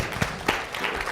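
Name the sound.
audience clapping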